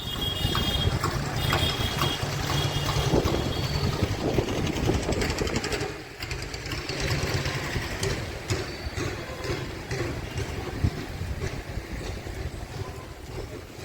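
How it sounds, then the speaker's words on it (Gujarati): Strong windstorm roars steadily, raising dust, a dense rushing noise with gusts rising and falling throughout, loud and close with no voices. "મિત્રો અત્યારે તો હે ને વાવાઝોડા જેવું થઈ ગયું છે"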